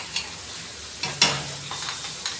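Masala sizzles gently in a pan while being stirred, with a faint steady fry broken by a few soft scrapes and clinks of the spoon, quiet and close, with no talking.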